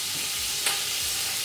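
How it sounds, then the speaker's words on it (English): Beef frying in hot oil gives a steady, moderate sizzle with faint stirring, close by, with no voices. "So the oil's nice and hot. Now I'm going to throw some of the beef in, mix it around"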